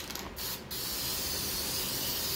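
Translucent spray paint hisses out of an aerosol can onto a dollar store robot: two short bursts, then one long, steady, close spray.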